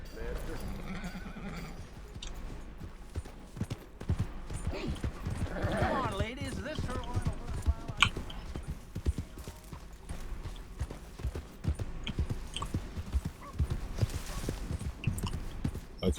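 Horse hooves clip-clop along a trail in Red Dead Redemption 2, a steady rhythmic plodding under game music and ambience while someone talks over it.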